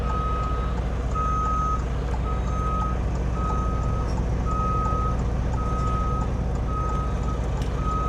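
A truck backs up while its reversing alarm beeps in a steady, evenly spaced rhythm over a loud, constant engine rumble, close by and with no talking.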